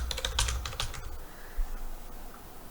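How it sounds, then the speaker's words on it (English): Quick keystrokes on a computer keyboard as a search topic is typed into a library database, a brief close burst of clicks that fades into quiet room tone. "I'm going to type in my topic."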